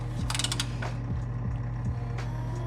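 A ratchet clicks in quick repeated bursts while tightening a part during an oil change on a Ford Mustang GT, close and crisp over a steady low engine-bay hum.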